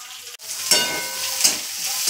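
Cinnamon sticks and bay leaves drop into hot oil for tempering, and a loud, bright sizzle starts at once. It rises in two fresh surges as more spices go in and stays steady and close the whole time.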